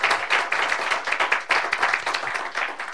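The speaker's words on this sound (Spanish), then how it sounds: "Un aplauso fuerte al Señor." Loud congregational clapping at a church service, close and energetic, with rapid overlapping hand claps forming a dense, pulsing burst that swells and dips in waves for a few seconds.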